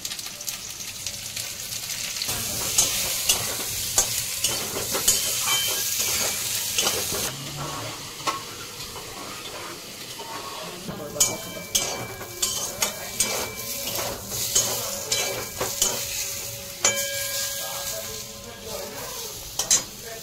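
Oil sizzles steadily as pieces of pointed gourd fry in a pan with salt and turmeric, with occasional stirring scrapes and light clinks of a utensil.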